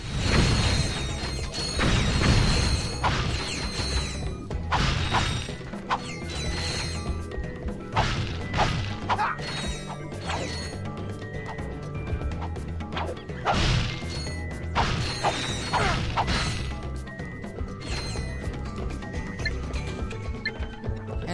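Crates smashed in Ratchet and Clank: Up Your Arsenal, including a jackpot crate, give a rapid run of loud whacks, crunches and mechanical clanks over game music, with no talking.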